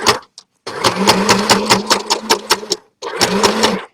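A sewing machine stitching a striped tie dye bag, running in loud, close bursts of rapid rhythmic needle clatter with a short pause between runs, heard alone.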